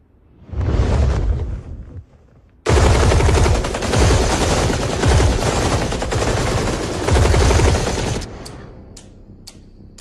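Heavy automatic gunfire in a Hindi-dubbed South Indian action movie scene erupts in loud, dense sustained bursts after a brief opening burst and pause, then cuts off abruptly, leaving faint scattered sounds.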